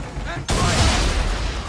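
Ship cannons firing in Assassin's Creed III: a sudden loud boom that bursts in partway through and rolls on as a heavy rumble, following faint background sound.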